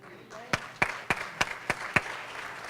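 Brief, scattered clapping from mourners at a funeral service, a handful of distinct claps spaced roughly evenly and fading out quickly.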